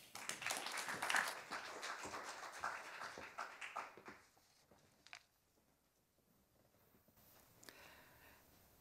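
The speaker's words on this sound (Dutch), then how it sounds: "Een hartelijk applaus." Audience at a university talk clapping warmly for a marketing lecturer, a dense burst of applause that thins and fades over several seconds into near silence with a few late claps.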